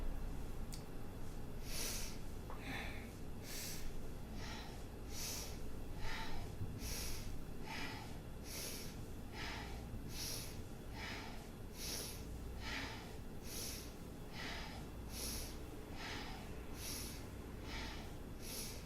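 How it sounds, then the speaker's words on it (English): Slow rhythmic breathing in and out during ankle stretching, with regular soft breaths repeating about every second over a steady background hiss, close and fairly quiet. "So inhale, exhale, inhale, exhale, inhale, exhale."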